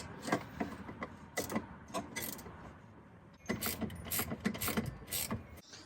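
A 1/2 inch ratcheting wrench tightens 5/16 nylock nuts with washers on seat brackets in a Jeep JK, giving quick runs of close, crisp clicks, sparse at first and then denser near the end.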